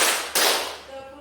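A group of people claps together in a counted rhythm, one sharp, loud, close clap ringing out after the tail of an earlier one.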